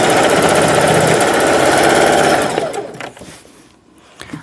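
A sewing machine stitches the hem of a denim jumper, whirring loudly and rapidly for a couple of seconds before it stops and leaves quieter handling sounds.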